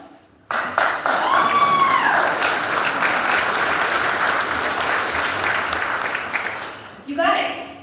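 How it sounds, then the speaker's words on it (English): A graduation audience for a high school class breaks into loud applause and cheering with whoops, sustained for several seconds before fading, then a brief burst of clapping near the end. "Ricardo, you can cheer for that if you want."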